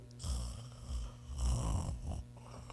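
A voice imitates snoring, producing slow, rasping snore-like breaths that repeat about four times in a steady rhythm, close and fairly loud, with no spoken words.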